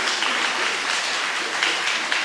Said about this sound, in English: I ask you to put your hands together for them